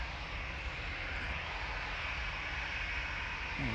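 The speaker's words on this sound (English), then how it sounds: "Eurowings from Dusseldorf, TAGWC on approach." A Eurowings airliner on approach at Manchester Airport, arriving from Dusseldorf, gives a steady broadband engine roar that holds at an even level throughout, with no talk over it.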